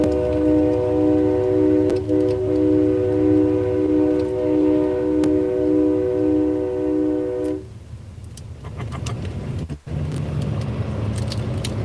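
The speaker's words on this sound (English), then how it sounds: "he got him some new train horns yesterday and they sound really" A newly fitted train horn on a truck in a 2022 trucker convoy blasts a long, loud, steady chord for about eight seconds, then cuts off, leaving road and engine rumble with a brief thump.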